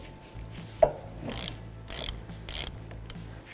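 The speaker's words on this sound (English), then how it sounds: "So now we have to break our flex hose banjo bolt" A 13mm socket wrench ratchets and clicks as it cracks loose a brake flex hose banjo bolt. There is one sharp snap, then several short mechanical ratcheting bursts, close by in a quiet space.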